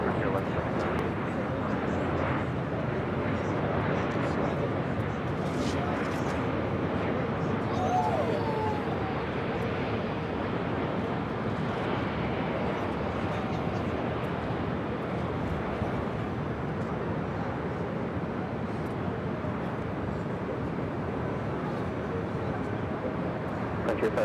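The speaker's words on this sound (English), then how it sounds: "another Frontier flight going to be taken off at 24 left" A Frontier airliner rolls for takeoff on runway 24 left at Los Angeles, giving a steady, distant jet roar that holds for the whole stretch beneath intermittent voices.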